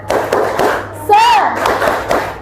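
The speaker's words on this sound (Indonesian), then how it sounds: "tepuk semangat" A primary school class claps the rhythmic 'tepuk semangat' spirit clap in quick, patterned beats, mixed with voices chanting and a brief whistle-like tone in the middle.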